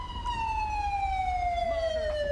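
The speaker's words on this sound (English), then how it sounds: "Let me just insta-spawn the ambulance because it's stuck out here." Ambulance siren in GTA V with the LSPDFR mod, a steady loud wail sweeping slowly downward in pitch over a low rumbling background, with faint engine noise.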